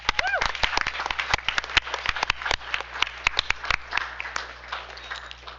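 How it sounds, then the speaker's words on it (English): Scattered clapping from a small audience at a school district board business meeting, individual sharp claps irregularly spaced and fairly close, with a low steady hum underneath. "We can give him a round of applause."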